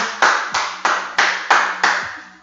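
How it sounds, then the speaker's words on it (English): Hand clapping at the end of a joint-friendly HIIT workout: six sharp, close claps in a steady, evenly spaced rhythm, each ringing briefly before the next, with no talking. "I'm clapping you as if I was in your living room"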